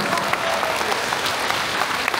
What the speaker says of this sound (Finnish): jälleen kerran aplodit Ekin kavereille